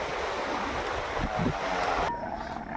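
Waves wash steadily at the water's edge on Tanjung Kembang Kabong beach in Sarawak, a continuous broad rush of surf with some wind noise on the microphone and no talking.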